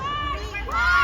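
Festival crowd at a Philippine festival in Yoyogi Park, Tokyo, shouting loudly in a shouting contest, a sustained dense roar of many voices that swells louder toward the end.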